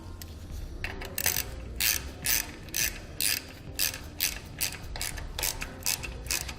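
A number 8 self-tapping tech screw is driven with a hand ratchet to mount an LED clearance light, giving a series of close, crisp ratcheting clicks in short bursts, about a dozen strokes in a steady rhythm.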